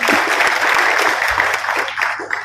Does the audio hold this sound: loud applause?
yes